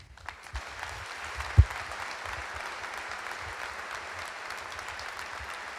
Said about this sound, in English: If I made sense now, then you can clap and welcome me like you mean it.